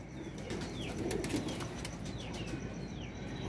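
Flying pigeons handled in the hand beat their wings in short flapping bursts, with soft cooing and faint bird chirps in the background.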